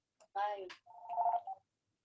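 A telephone linked to a medical school rings with an incoming call, a short electronic burst followed by a steady warbling tone at close range, alone without talk.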